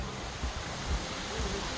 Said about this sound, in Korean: 이거 비룡 폭포인데